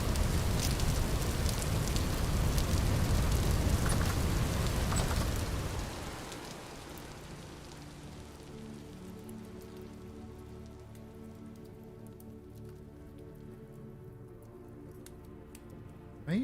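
Rainstorm in the video game Vintage Story: dense, loud rain patter at first, then dropping to a quieter, steady drizzle.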